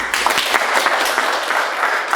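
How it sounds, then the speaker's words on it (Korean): A seated audience at a lecture hall claps to welcome a guest speaker, dense steady applause filling the room from start to finish, loud and close. "여러분 큰 박수로 환영해 주세요."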